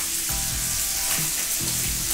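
Food fries in a pan with a steady loud sizzle and crackle, close up, with faint clinks and shifting bursts and no talking.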